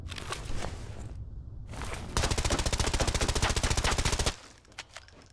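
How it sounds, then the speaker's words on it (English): Rapid automatic gunfire from the shooter game Arena Breakout Infinite crackles in a long, loud, evenly spaced burst, preceded by scattered shots and followed by a few isolated pops. "But Kiyotaka taking some gunshots over here"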